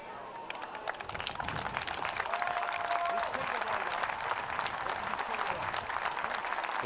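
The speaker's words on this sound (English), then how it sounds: "Merci d'observer maintenant une minute d'applaudissement en son honneur" A rugby stadium crowd applauds steadily through a minute-long tribute before a Switzerland versus Czech Republic match, a dense continuous clatter of clapping with a voice speaking over it.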